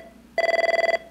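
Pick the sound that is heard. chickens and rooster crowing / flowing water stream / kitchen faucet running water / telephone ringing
telephone ringing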